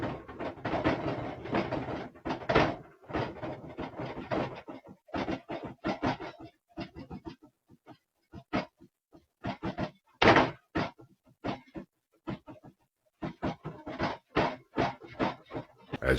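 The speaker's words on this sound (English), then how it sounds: "here's some footage from when the attic door was rattling." A wooden attic door rattles and thunks repeatedly in its frame, with irregular bursts of clattering knocks separated by brief quiet gaps, fairly close and alone without voices.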